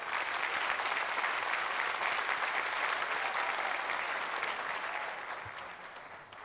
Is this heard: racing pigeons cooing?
no